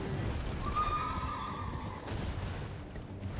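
A horse in the video game Elden Ring whinnies in a drawn-out, wavering neigh over a steady low rumble of background noise.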